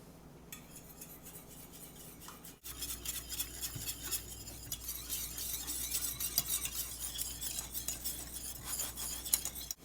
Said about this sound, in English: I'm going to add this to this milk, and I'm going to whisk it until it begins to thicken.